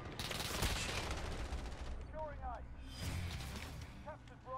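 Call of Duty Modern Warfare Ground War gunfire: dense, rapid automatic bursts and explosions rattling continuously, with a pause and whizzing tones before another volley, while a player talks over it.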